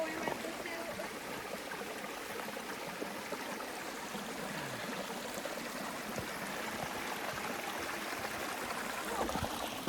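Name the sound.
stream flowing on a hike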